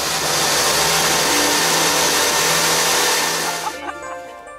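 A 280 hp motorboat engine roars loudly and steadily, a dense broadband drone that holds for several seconds before dropping off sharply near the end, leaving quieter tonal sounds.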